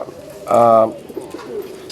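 A single satin pigeon's low, throaty coo sounds up close and loud, followed by quieter background rustle.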